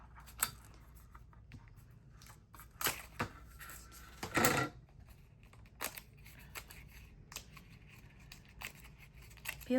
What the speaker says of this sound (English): I'm going to take my die cut machine, feed my sandwich in.